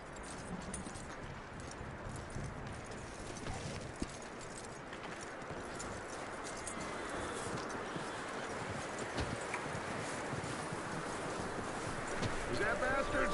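Horse hooves clip-clop in a steady walking rhythm in Red Dead Redemption 2, close and moderately loud, with voices talking over them.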